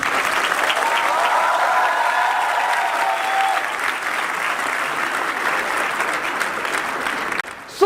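A lecture audience breaks into sustained applause to welcome speaker Hammad Safi, with dense, even clapping from a crowd that holds steady for several seconds before cutting off abruptly.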